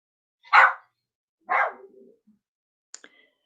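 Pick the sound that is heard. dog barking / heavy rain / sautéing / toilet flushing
dog barking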